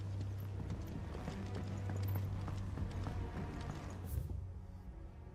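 Horse hooves clip-clop in a video game, a quiet, steady run of light rhythmic hoofbeats over a low background hum.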